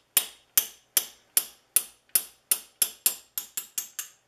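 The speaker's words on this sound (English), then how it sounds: "I'll be tapping them out with that punch and a hammer." A steel punch struck by a hammer drives out the lever pin of a rusty Stanley Bedrock bench plane, twelve sharp metallic taps at a steady, slightly quickening pace, close and clear with no talk.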